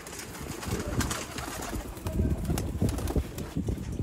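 Pigeons kept by a pigeon fancier in Sialkot coo in low, steady murmurs close by, blended with dense rustling and shuffling from the flock and no talk.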